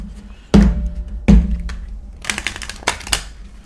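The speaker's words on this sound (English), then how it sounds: "Sorry if it's loud. My mic is like right here when I shuffle." A deck of tarot cards is shuffled right beside the microphone: two heavy thumps as the deck is knocked together, then quick papery riffling bursts.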